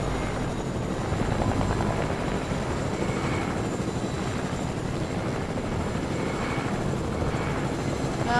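A video game helicopter's steady rotor thrum and engine drone fill the whole stretch, loud and close, with no talking over it.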